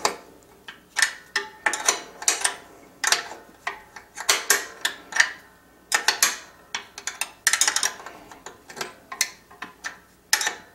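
A Ferrari wine corker mechanism is tightened for bottling sparkling wine with real cork, giving a steady run of close ratcheting clicks and grinding metallic turns that come in quick repeated bursts.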